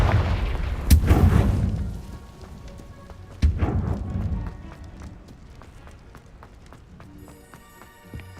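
Two sharp magical blasts from a Confringo fire spell in Hogwarts Legacy burst out a few seconds apart, each a loud boom that fades into a rumbling tail, followed by quieter scattered clicks and impacts.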